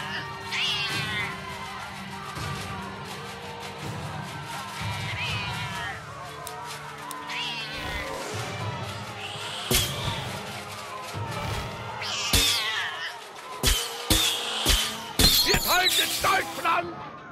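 Cartoon cat meowing in the South Park: The Stick of Truth video game, repeated yowling meows and caterwauls with a sharp shattering crash and clatter later, game voices talking underneath.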